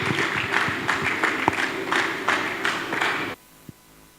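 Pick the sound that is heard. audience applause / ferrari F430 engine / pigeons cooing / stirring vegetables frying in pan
audience applause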